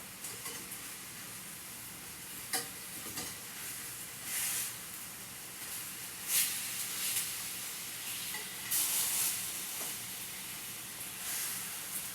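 Rosemary chicken frying in a pan, a steady close sizzle and hiss broken by scraping and spoon clatter as the pieces are turned.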